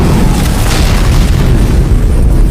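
A bomb explosion in a film, a loud dense boom with rumbling blast noise that fills the whole couple of seconds without letting up.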